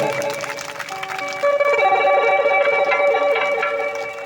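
Audience clapping during a Bhojpuri religious story recital in Deoria, a broad wash of applause that swells and holds steady, with some tonal music or voices mixed underneath.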